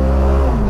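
A 2022 Polaris General XP4 Deluxe utility vehicle's engine accelerating hard, a low steady roar with rising tone, heard briefly and close.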